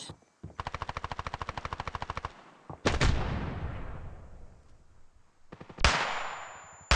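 Counter-Strike match gunfire: a rapid automatic burst of about two seconds, then single loud shots with ringing decays and another shot near the end.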